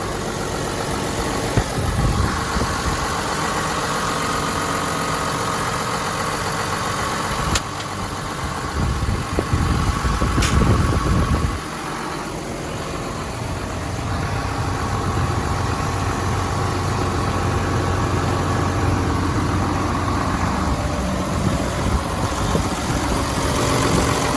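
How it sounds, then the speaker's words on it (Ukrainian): A 2004 John Deere 6620 tractor's 130 hp diesel engine idles steadily and loudly throughout, its low rumble briefly rising in a heavier surge partway through. "Трактор заводиться гарно, їде гарно."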